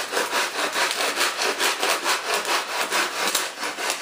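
Coarse 36 grit sandpaper rubs back and forth on a jet model build in quick, even strokes, about four per second, a rasping scratch close and loud with nothing else heard.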